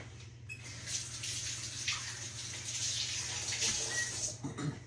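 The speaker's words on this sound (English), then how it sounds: "Let me rinse my hands off." Water running steadily from a kitchen tap as hands are rinsed under it, a soft continuous splashing hiss with a faint background hum, quiet and close.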